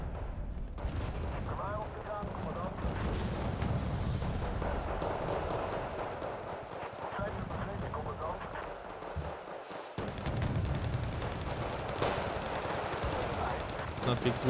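Heavy gunfire and explosions boom in a combat video game involving a reconnaissance helicopter, dense and continuous with rumbling blasts, while a voice talks over the action.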